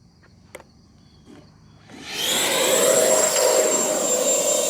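A Horizon Hobby Viper 90mm electric ducted-fan RC jet landing on a driveway, the quiet approach giving way to a sudden loud, steady whooshing whine of the fan close by, with no talking.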